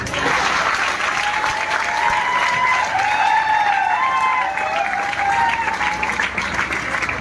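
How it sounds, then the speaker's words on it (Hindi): A crowd applauds at a coaching center book launch, loud continuous clapping throughout with faint voices and cheers drifting over it. "ताली 2000 बजाओ"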